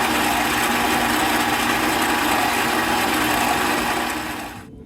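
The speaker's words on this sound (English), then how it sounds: "The stand mixer, if you have one, does it all for you." A stand mixer kneads Amish white bread dough with a steady, loud motor whir that holds evenly throughout, then quickly winds down and cuts off at the very end.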